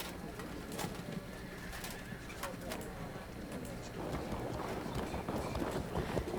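Faint horse hoof clip-clops sound at scattered moments beneath steady ambience in the video game Go Tell the Spartans!, with bird-like cooing mixed in.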